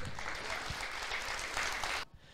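A church congregation applauds the Lord, a steady wash of clapping from many hands that cuts off abruptly near the end.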